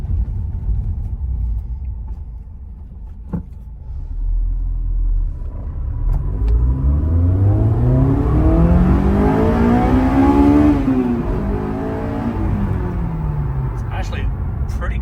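A Honda S2000's 2-liter engine revs while driving over a bumpy road, a low rumble climbing into a rising, then falling, engine whine.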